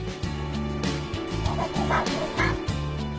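An 8-year-old Labrador barks repeatedly in quick yipping bursts, close by and fairly loud, with some whimpering tones between barks.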